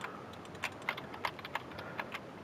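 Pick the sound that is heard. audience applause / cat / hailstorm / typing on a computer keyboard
typing on a computer keyboard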